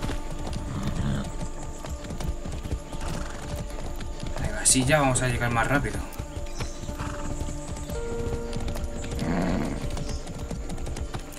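Horse hooves clip-clop steadily and a horse whinnies once in Far Cry 6, with someone speaking over the game sound.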